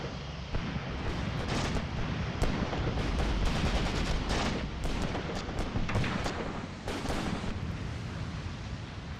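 Dense, sustained gunfire and explosive booms from a war video game, Operation Star, with rapid cracks and heavy low rumbles filling the whole stretch at steady, loud intensity and no talking.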